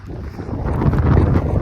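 Gusty outdoor wind on a Kazakh village farmstead roars across the microphone as a low rumble, rising and thickening into a steady buffeting blast.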